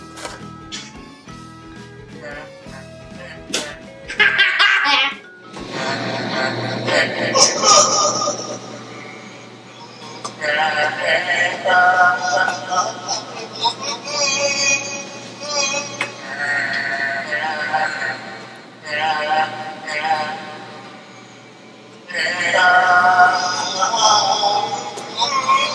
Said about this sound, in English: This is what part of Beethoven's Ode to Joy sounds like.